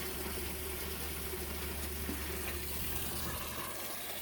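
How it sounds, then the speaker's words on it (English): Water drains out of a backyard fish pond during a water change, a steady close rushing flow over a low constant hum, with no voices. "I'm already draining the water out on this one to do a little bit of water change"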